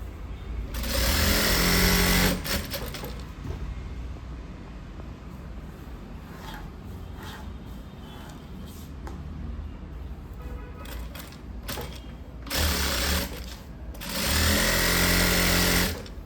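A tailoring sewing machine runs in loud bursts while topstitching a cross-cut blouse, whirring steadily at the start and end with a quieter, uneven stretch of handling in between.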